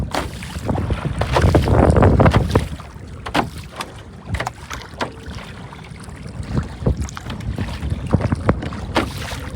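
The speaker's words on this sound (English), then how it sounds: "Yeah, it's getting pretty windy" Gusty wind buffets the microphone in a loud rumbling rush, with scattered knocks and water sounds from a small boat.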